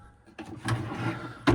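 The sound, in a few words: drawer opening or closing in a motorhome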